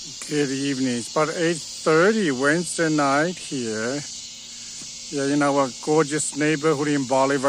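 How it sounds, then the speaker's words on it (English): A steady high-pitched cicada drone fills the night air throughout in a backyard in Bolivar, Missouri, with a person talking over it at close range. "Listen to the cicadas"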